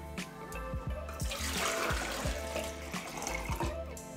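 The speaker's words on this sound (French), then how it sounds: "pour commencer, on va mettre de l'eau. Là j'ai choisi de le faire dans un bec verseur pour que ce soit plus simple." Tap water poured into a spouted jug to make a homemade multipurpose cleaner, a close, continuous splashing stream with gurgling and small knocks as the water fills the container.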